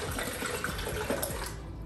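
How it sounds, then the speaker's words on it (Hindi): Water splashes and gurgles briefly as it pours into a blender, a close, steady burbling stream. "अभी सबसे पहले ब्लेंडर में पानी डालना है।"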